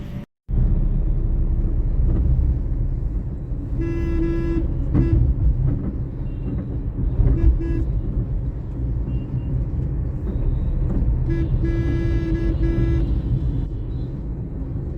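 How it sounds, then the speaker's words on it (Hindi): Inside a car with the air conditioning switched on at setting 2, a steady low engine and blower rumble fills the cabin, with brief broadband bursts and tonal blips rising over it. "ये देखो एसी चलते ही जो है आवाज़ गाड़ी की बदल जाती है।"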